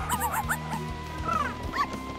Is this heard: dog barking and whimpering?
yes